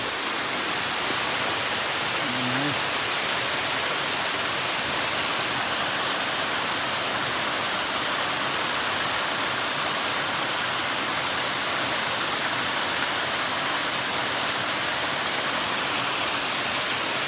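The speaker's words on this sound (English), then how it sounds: "Look at this beautiful waterfall." Steady, dense rushing of a waterfall near Franklin, North Carolina, a constant broadband roar with no breaks, heard close up and uninterrupted.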